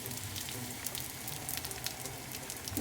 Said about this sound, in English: We'll get the frying pan going, and that's pretty well it